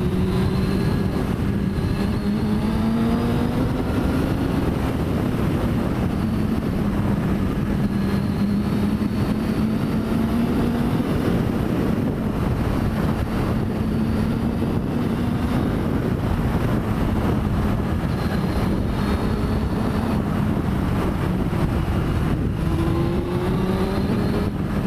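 A Suzuki GSX-R 750 K1 sports motorcycle is ridden, its engine droning steadily with rising and falling pitch as it shifts through revs, heavily buffeted by loud wind rush throughout, with no talking.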